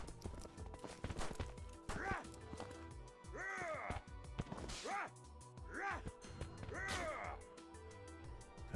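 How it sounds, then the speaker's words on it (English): A Wendigo monster in the horror game Dirge sprints on all fours, heavy rhythmic footfalls pounding under repeated harsh, rising and falling cries, close and fairly dense over several seconds. "The Wendigo can now run on all fours when sprinting"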